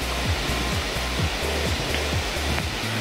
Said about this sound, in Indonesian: melihat air terjun ini teman-teman. Debit airnya cukup kecil